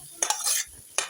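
Short bursts of sizzling from garlic, garlic greens and onion frying in hot oil for fried rice, with stirring scrapes, close up and fairly quiet.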